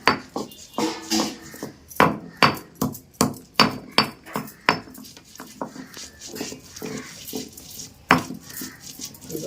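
Salt, cumin and chillies are pounded for jujube vadiyalu, giving sharp, close thuds and clatters in an irregular rhythm, some strikes louder than others, with short quiet gaps and no speech.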